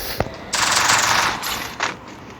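Gunfire in the battle-royale game Garena Free Fire: a short burst of rapid automatic shots after a single crack, followed by another brief shot.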